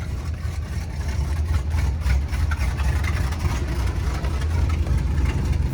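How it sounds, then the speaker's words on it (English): Travco L'Esprit motorhome's 440 V-8 big block engine idling steadily with a deep, even low rumble, close and continuous throughout with no talk. "the idle is way better than yesterday. And when it warms up, it really smooths out."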